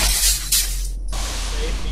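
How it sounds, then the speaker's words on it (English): Glass being beaten in the video game Space Station 13, a few sharp shattering crashes and bursts of noise in quick succession, loud and close, with game sounds continuing after. "The beating of the glass."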